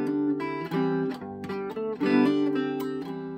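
Guitar picking Bach's Jesu, Joy of Man's Desiring with just a pick and no fingers, a short close phrase of clean picked notes in a flowing rhythm with slight gaps between strokes, no talking.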